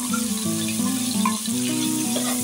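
Onion frying in a pan of hot oil with red chillies for veg Kolhapuri, a steady close sizzle with a faint tonal hum beneath it.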